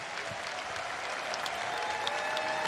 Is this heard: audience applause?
yes